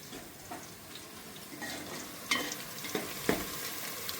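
Food for prawn biryani frying in a pan: a faint, steady sizzle with occasional stirring scrapes and light clinks of the utensil.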